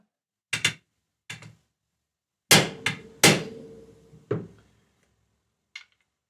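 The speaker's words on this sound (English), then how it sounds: "What I do is I generally give them a little tap first with the hammer." A small plastic hammer taps wood in a luthier's custom guitar workshop: several separate sharp knocks, close and clean, spaced out with brief ringing tails and quiet gaps between.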